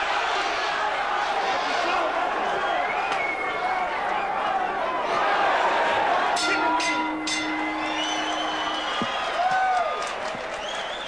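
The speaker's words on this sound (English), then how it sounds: "the crowd gets into it on Czyz's behalf." A boxing arena crowd cheers and roars for Bobby Czyz in a 1992 bout against Donny Lalonde. A broad, continuous wall of crowd noise swells at times beneath steady ringside commentary.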